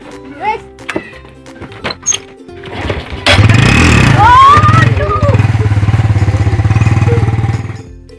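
A motorcycle engine starts up after a few knocks and thumps, then idles and revs loudly close by for several seconds before cutting off near the end.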